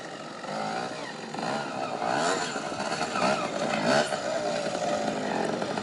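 A 125cc two-stroke trials motorcycle climbs over rocks at a trials event, its engine buzzing and revving in rising and falling bursts, fairly close and loud.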